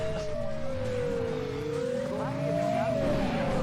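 In Driver 2, a car engine drones continuously, its pitch slowly rising and falling as the vehicle drives on, with a rough low rumble underneath and a voice talking over it.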